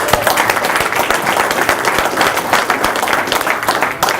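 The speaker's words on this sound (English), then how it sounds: "so I'll give you a round of applause for Mitch" Loud, close round of clapping from a room at a hockey team press conference, dense and continuous with individual sharp claps standing out throughout.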